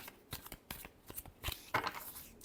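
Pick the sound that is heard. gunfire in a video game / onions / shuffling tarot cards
shuffling tarot cards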